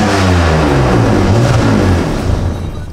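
A BMW E46 drift car with no interior and a blowing exhaust revs hard up close, its engine note swelling and falling in loud, raspy sweeps before easing off slightly at the end.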